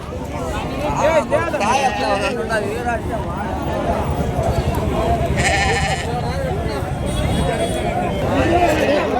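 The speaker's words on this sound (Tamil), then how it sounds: "செம்மறி ஆடு குட்டிங்க செம்மறி ஆடுங்க" Sheep and lambs bleat repeatedly at a large, busy livestock market for goats and sheep in Krishnagiri, their calls overlapping amid constant crowd chatter and shuffling.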